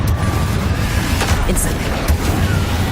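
A Confringo explosion spell goes off in the video game Hogwarts Legacy, a loud dense blast with rumbling booms and crackling bursts over three seconds, a couple of sharper hits punctuating the roar.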